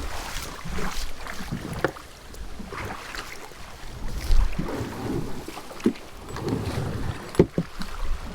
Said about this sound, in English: Oh, wind, why'd you have to ruin this beautiful day?